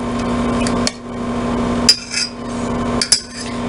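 Metal lid of a can of ravioli being pried and lifted off in a kitchen, giving two or three sharp metallic clicks and scrapes over a steady background hum, with no talking.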